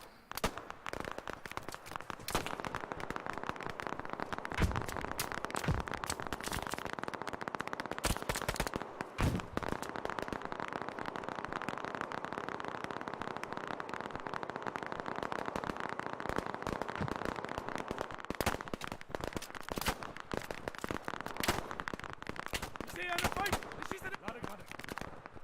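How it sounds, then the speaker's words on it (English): Video game gunfire: a constant stream of sharp pops and rapid bursts, dense and fairly loud throughout, with a steady background din and occasional talk mixed in. "What's the constant popping? That's gunshots."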